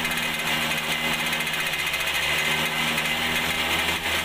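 A TVS Super XL motorbike engine running at a steady high rev during carburetor adjustment, a continuous buzzing drone with a dense rattling whine, close and loud with no talking.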